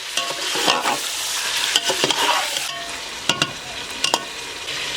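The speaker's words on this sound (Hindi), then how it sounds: "बीफ डालेंगे, 2 मिनट के लिए इसकी भुनाई करेंगे।" One kilogram of beef frying in a pot for rosh, a loud crackling sizzle with repeated scraping and knocking stirs close by.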